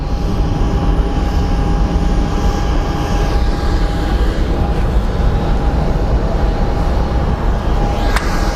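An Alaska Air airliner at Phoenix Sky Harbor airport roars steadily with loud, broad jet engine noise and a constant whine, with no letup across the whole stretch.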